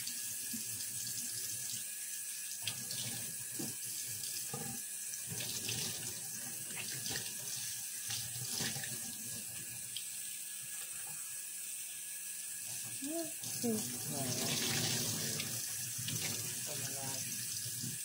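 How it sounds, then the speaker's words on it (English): Water runs from a tap into a sink in a steady, close hiss with faint clinks and rattles, and some quiet talking underneath. "Water."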